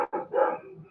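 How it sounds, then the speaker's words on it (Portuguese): Dogs bark in a quick burst of two or three short, close yaps while an online accounting class goes on. "Tem cachorros participando da aula junto aí."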